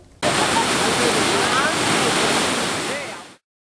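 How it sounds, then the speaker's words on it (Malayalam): Kallattupara waterfall at Upputhara in Idukki pours strongly after heavy rain, a loud, continuous close-up roar of falling water that holds steady and then tapers off at the end. "മഴ ശക്തമായതോടെ ഉപ്പുതറ കല്ലാറ്റുപാറ വെള്ളച്ചാട്ടം സജീവമായി"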